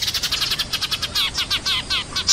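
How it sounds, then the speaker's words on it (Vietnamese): A sparrow chirps in a quick run of bright, high chirps, a dozen or more close together, over a faint low background hum. "Sparrow."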